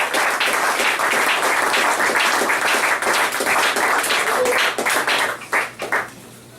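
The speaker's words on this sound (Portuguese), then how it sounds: "Aplaudir ao Senhor" A congregation at a men's church camp applauds, steady dense clapping that carries on loudly before thinning into a few scattered final claps.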